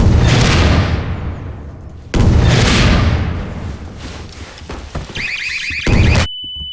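Rocket launcher blasts and explosions in Garry's Mod, with two loud broadband booms each decaying into rumble, followed by scattered debris crashes and a brief high electronic tone near the end.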